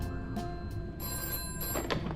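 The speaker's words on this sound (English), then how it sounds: "we get this phone call." A telephone rings in a Five Nights at Freddy's fan horror game as the pizzeria night section begins, with bright electronic trills repeating in short bursts over a low, steady background hum.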